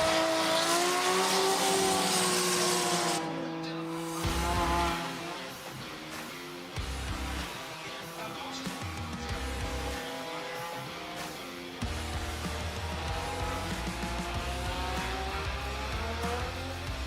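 A drift car slides with heavy angle and throttle during Formula Drift Japan qualifying at Okayama International Circuit, its engine revving and rising and falling while the tires squeal in long stretches, heard from trackside at moderate distance.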